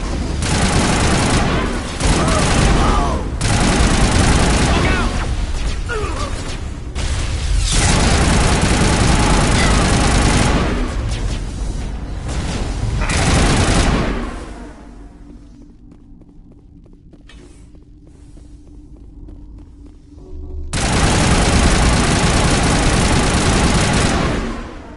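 Heavy sustained gunfire in a Mass Effect firefight, loud bursts packed close together over rumbling explosions, dropping away for a few seconds to a low hum before a fresh loud volley erupts.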